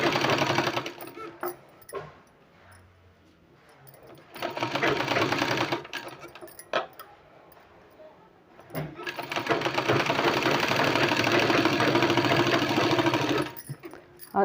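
A sewing machine stitches a child's kurta sleeve in loud, rapid bursts of mechanical clatter, separated by quieter pauses while the fabric is repositioned.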